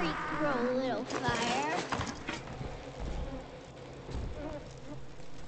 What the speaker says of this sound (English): Can't shoot fireballs while the bees are on you.